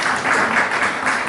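An audience claps at a naat and nasheed gathering, a dense, steady applause filling the whole moment at close range without any break.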